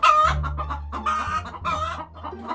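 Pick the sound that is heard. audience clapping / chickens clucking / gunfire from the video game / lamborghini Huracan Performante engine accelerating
chickens clucking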